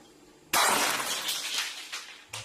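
Glass shatters abruptly in a kitchen, a loud bright crash followed by tinkling shards that settle over about two seconds, with a second smaller crash near the end.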